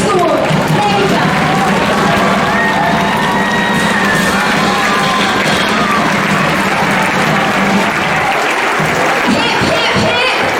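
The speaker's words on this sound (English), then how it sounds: "With a standing ovation and a resounding applause, let's give it up for Greensprings School, Lagos." A school anniversary audience in Lagos gives a standing ovation, with sustained loud applause, cheering and whoops from a large crowd that hold steady throughout, while an announcer speaks over it.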